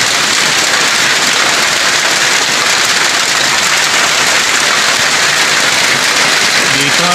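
Heavy rain pours steadily outdoors during a hunting outing, a loud, dense hiss of drops on surfaces that continues without a break throughout.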